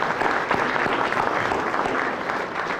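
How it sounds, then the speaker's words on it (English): Brief round of applause at a Pasadena community meeting for the city manager, a dense, steady patter of many hands clapping throughout, moderately loud and without any talk. "We can give him a round of applause."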